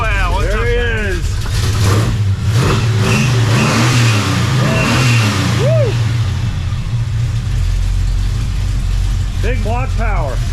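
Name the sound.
1971 Chevelle Super Sport big block engine revving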